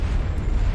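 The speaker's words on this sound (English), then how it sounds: "you open up the turrets, and you start blowing it up using the 3 turrets" Turret fire blasting a drop ship in the video game Mass Effect, a heavy rumbling explosion with deep booming low end that fills the short moment continuously and loudly.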